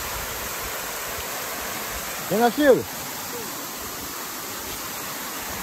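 Steady broadband rush of a waterfall with clear water, constant and full throughout, with a brief voice speaking over it near the middle.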